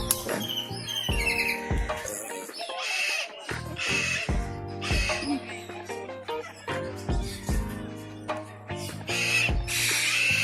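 Repeated squawky, chirping bird calls with clicking, rattling sounds mixed in, busy and close, with short pauses between bursts.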